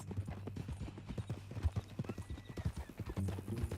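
Horse hooves clip-clop in steady, close rhythm in Red Dead Redemption 2, with a brief whinny and light talk over the repeated thuds.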